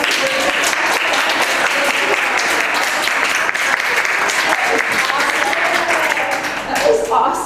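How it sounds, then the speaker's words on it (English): Sustained applause from an audience at an annual fundraiser event, dense and steady clapping filling the room throughout with a slight dip near the end. "I would like to give you all a round of applause."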